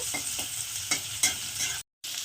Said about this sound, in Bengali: রসুনটাকে একটু পেঁয়াজের সঙ্গে হালকা ভেজে নেব